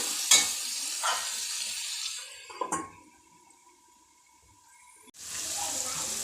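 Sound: carrots and beans frying in oil on medium flame

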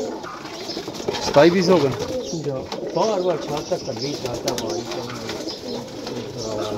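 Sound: pigeons cooing

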